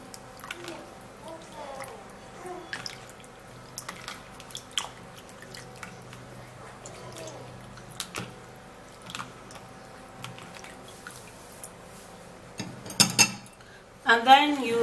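Ingredients are washed in a bowl: quiet scattered clinks, drips and soft squishes, then louder splashing and rattling of water near the end.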